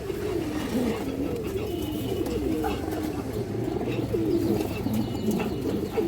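Pigeons, female high-flyer birds in a loft, coo in soft repeated throaty rolls, several overlapping close by against a faint background.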